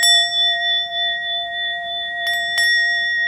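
A struck bell rings with a clear, sustained metallic tone of stacked harmonics that hangs through the whole stretch, with two brief fresh strikes near the end renewing the ring; no voices.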